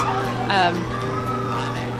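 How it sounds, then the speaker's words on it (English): Emergency sirens at a Christmas parade: a brief rising wail stands out over a steady background hum, with crowd noise and voices around it. "some sirens and stuff going, so we'll pick up on that here in a little bit."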